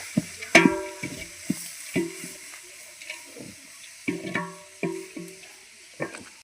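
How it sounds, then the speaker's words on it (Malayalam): Three kilos of onions are stirred and sautéed in a large pan for a home-style chicken curry. Soft hissing frying runs under scattered clinks and scrapes of a ladle, spaced irregularly and heard close up. "ഉള്ളി മൂന്ന് കിലോ നമുക്കൊന്ന് നന്നായി ഒന്ന് ഇളക്കി വിടാം"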